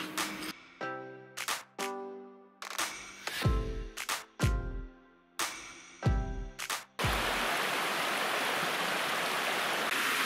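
A river in the mountain town of Zakopane, Poland, rushes steadily and loudly for the last few seconds, a dense, unbroken roar that follows a stretch of separate tonal bursts.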